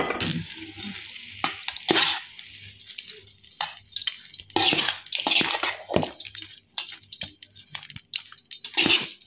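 Cooked rice is stirred and tossed with hot oil tempering for pulihora, giving wet, squelching mixing strokes in uneven bursts with soft sizzle and scraping between them, close up and with no talking.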